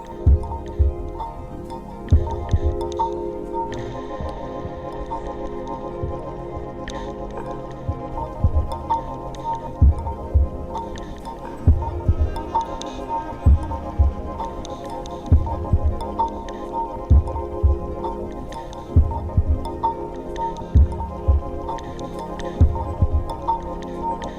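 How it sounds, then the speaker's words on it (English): A soft, throbbing heartbeat pulse from an album track beats in a steady, regular rhythm beneath sustained ambient music with harp, loud and prominent throughout. "Heartbeat."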